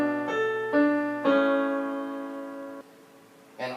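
Piano plays a short measure of a solo: a few separate sustained notes and chords struck one after another, the longest chord ringing out before a final soft attack, heard alone and up close.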